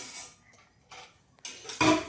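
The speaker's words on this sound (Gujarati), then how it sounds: "તો ફાઇનલી આ વાસણ ગોઠવાઈ રહ્યા છે" Steel utensils are stacked and set in place at home, a few faint clinks and clatters spaced apart, growing louder toward the end.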